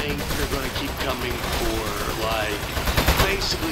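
Enemy gunfire in the video game Aperture Desk Job, as household appliances rise up: rapid bursts of shots under game sounds and a talking voice, close and moderately loud.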